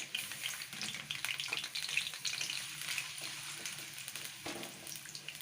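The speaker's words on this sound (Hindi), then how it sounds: "ऑयल गरम हो चुका, मैंने ये प्याज धो के काट के रखे हैं।" Washed and chopped onions fry in hot oil for a potato brinjal dish, producing a continuous close sizzle with crackling pops and occasional stirring scrapes, fairly quiet and steady throughout, with no talking.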